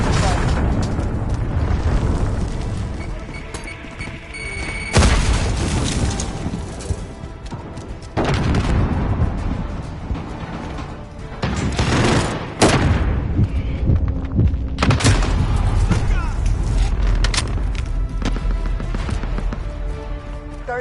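Repeated explosions and bursts of gunfire in the video game Modern Warfare, including cruise missile blasts, hit loud and close with sudden heavy booms amid dense, continuous battle noise.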